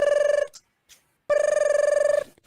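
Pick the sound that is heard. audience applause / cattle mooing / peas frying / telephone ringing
telephone ringing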